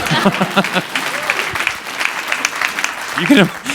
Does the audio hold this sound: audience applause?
yes